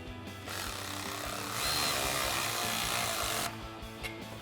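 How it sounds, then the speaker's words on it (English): A ratchet fitted with a long 5mm Allen socket tightens the bolts on a RedRock HD rear bumper on a Jeep Wrangler JL: close, steady grinding and rasping with low rhythmic clicks, growing louder midway, then easing off near the end. "I've got a long head 5mm Allen socket on my ratchet. We're going to get these tightened down."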